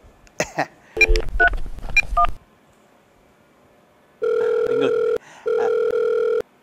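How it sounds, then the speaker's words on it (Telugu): A quick run of dialing beeps of differing pitch, then two long, steady ringing tones on the line after a short silence. "లత ఏం చేస్తుందో ఒకసారి ఫోన్ చేద్దాం."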